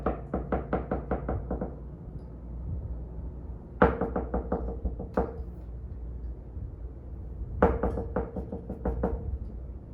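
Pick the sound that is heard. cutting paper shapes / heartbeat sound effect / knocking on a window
knocking on a window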